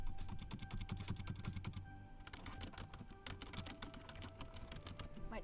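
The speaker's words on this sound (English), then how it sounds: "I just have my little keyboard here. I have the Peaches switch. Sounds really nice." Rapid typing on a small mechanical keyboard fitted with Peaches switches, a dense run of close, crisp clacks with a brief lull partway through before the keystrokes resume, heard alone without any talk.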